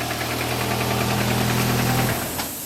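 An idling Nissan Altima engine knocks with a fast, even tapping over a low hum, then shuts off near the end.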